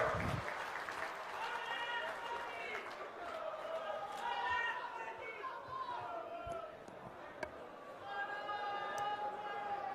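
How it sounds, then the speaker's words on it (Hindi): Crowd at a political public rally in Madhya Pradesh clapping in welcome, a continuous spread of applause lying under an amplified speaker's voice throughout, with a few sharper claps standing out. "ताली बजा के भाई स्वागत कीजिए खड़गे जी का"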